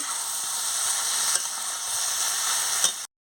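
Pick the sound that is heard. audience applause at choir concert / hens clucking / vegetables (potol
vegetables (potol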